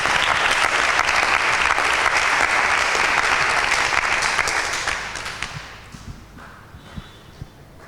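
Loud applause from an audience at a Bible quiz, a dense sustained roar of clapping for about five seconds that thins out and dies away into a few last scattered claps.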